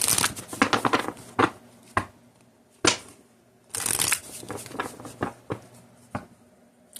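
Tarot cards being shuffled by hand, a series of crisp riffling bursts and soft slaps at irregular intervals, close and clear, with quiet pauses between shuffles.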